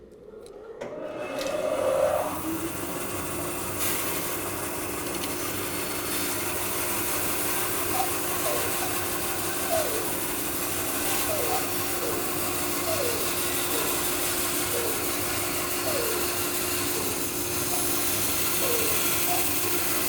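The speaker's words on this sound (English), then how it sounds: "So I'll get the dust collector going and we're off to the races." A 3 horsepower dust collector starts up for a bandsaw, rising to a steady loud whirring drone that runs throughout, with faint repeated clicking and ratcheting sounds from the shop mixed in.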